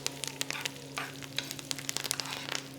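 Quail basting in a hot pan, a steady close sizzle with soft spattering crackles and occasional spoon strokes, no voices.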